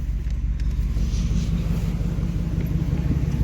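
A Dodge Dakota pickup with a newly finished exhaust idles close by in a steady, deep low rumble, with no revving and no other sound.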